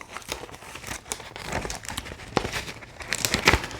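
Paper envelope being torn open by hand: close crinkling and ripping paper noises in uneven bursts with sharper tearing snaps toward the end, no talking.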